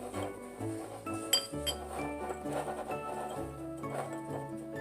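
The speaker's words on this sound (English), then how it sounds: "I will just give them a quick little mix here." Small dishes and utensils clink and tap repeatedly while measured spices are mixed, a series of light glassy chinks and knocks at close range.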